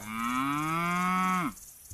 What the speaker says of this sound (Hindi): ये बछड़ा दिन भर मुआ मुआ करता रहता है